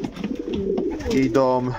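Domestic pigeons cooing in a cold winter loft, with soft throaty coos rising over a background of voices and shuffling; someone talks over the birds throughout the clip.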